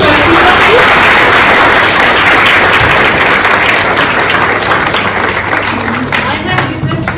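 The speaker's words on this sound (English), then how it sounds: "can we give a round of applause to our speaker, please?" A seminar audience claps loudly for a speaker at a career event, a close, thick and continuous burst of applause that holds steady, then thins slightly toward the end.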